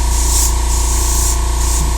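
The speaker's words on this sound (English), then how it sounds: "So I thought I'd just put a little water in here just to kind of see how well the spray emits here" A Gaahleri 98D airbrush spraying water gives a steady, close hiss that sprays continuously, with a faint pulsing rise and fall in the mist.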